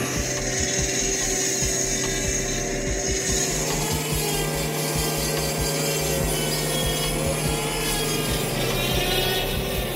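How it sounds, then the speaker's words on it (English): A large 1830mm sawmill blade splits big timber with a continuous, loud grinding rasp and an underlying machine hum, steady and close for the whole stretch without any speech. "This 1830mm saw is equipped with a blade specifically designed for wood sawing applications to split large types of wood into smaller pieces"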